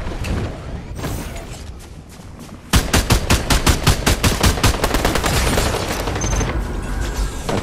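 Gunfire in Fortnite, scattered shots at first, then a loud, fast automatic burst of evenly spaced cracks that keeps going for several seconds, close and with no voices.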